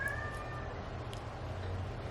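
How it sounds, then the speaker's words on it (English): A pet cat meowing indoors, one drawn-out cry at the start, faint and slightly distant against quiet room hum, with no talking. "Sorry if you hear my cat meowing"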